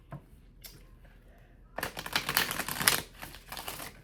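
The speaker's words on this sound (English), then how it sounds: "I'm gonna do one more shuffle." A deck of tarot cards is shuffled up close, a short riffle followed by a longer burst of dense rapid flutter and clicking, with a quiet pause before it.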